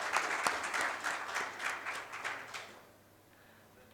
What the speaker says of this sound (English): So a huge round of applause to all of us for this milestone event.